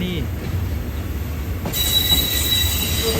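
A passenger train passes close by, its Daewoo sleeping cars at the tail, with loud continuous rumble and high metallic wheel squeal on the rails.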